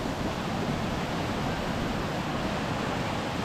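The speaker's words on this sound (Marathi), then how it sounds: "एकदम उत्कृष्ट धबधबा आहे इकडे." Sondayi waterfall near Vavarle, Karjat: a dense, even roar of falling water, heard steadily and fairly softly with no voices.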